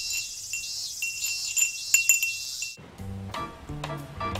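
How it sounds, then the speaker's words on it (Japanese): Glass wind chimes from Tokyo's Edogawa ward tinkle and clink in bright, repeated strikes for nearly three seconds, then give way to a different, lower tonal passage. "庶民的といえばやっぱりガラスの風鈴。"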